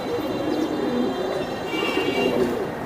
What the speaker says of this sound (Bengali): খাকি কবুতর, খাকি কবুতর ভাই